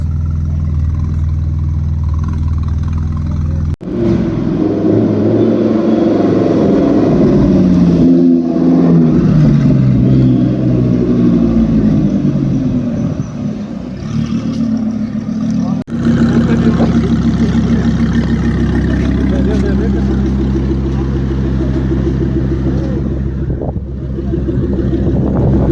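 A Porsche Turbo S supercar engine roars loud and close at a Bangalore event, its pitch rising and falling through repeated revs with a sharp break midway, amid crowd noise and chatter.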